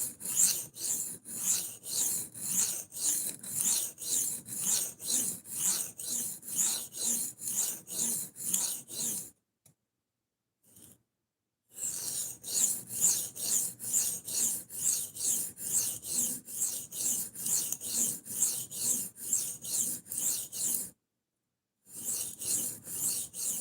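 A knife blade is stroked over a diamond sharpening plate in a fast, steady run of rasping scrapes that pause twice, close and alone without talk.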